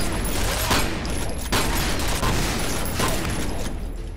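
Repeating cannon firing in the video game FEAR, a rapid run of heavy booming shots with mechanical clatter, loud and sustained with brief gaps.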